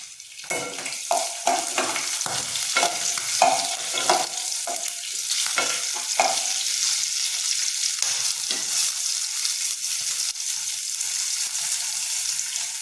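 Green chillies, curry leaves and asafoetida hit hot oil with mustard seeds, crackling and sizzling loudly up close, with rapid popping bursts early that settle into a steady hiss.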